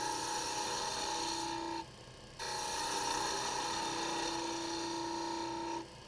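A woodturning lathe spins as the bottom section of a wooden cone for a gimbal clock is turned. A steady motor hum runs with a rough cutting hiss, briefly dropping quieter for about half a second before resuming.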